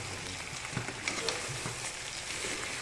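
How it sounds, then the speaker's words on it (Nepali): Onions fry with turmeric in a pan for chicken curry, giving a soft, steady sizzle with a few light scrapes as the mixture is stirred. "अब म यसमा एकछिन प्याज भुटेपछि बेसारहरू सबै थोक हाल्छु।"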